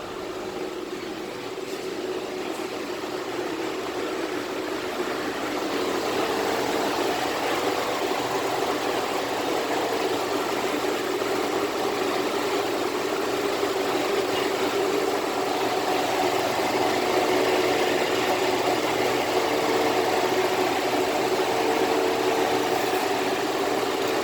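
A parked car engine idles close by in park, giving a steady low hum that holds evenly through the clip with no talk.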